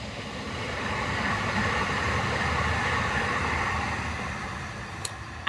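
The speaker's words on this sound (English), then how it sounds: "This train does come by like every 15 minutes" A train passes by outdoors, a broad rumbling roar that builds, holds steady for several seconds, then eases slightly before a brief click at the end.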